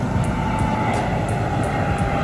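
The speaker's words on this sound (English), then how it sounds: "I'm having planes flying over me and you're not" Airplanes passing overhead outdoors beside a hot tub: a steady, broad engine roar that fills the whole stretch without a break.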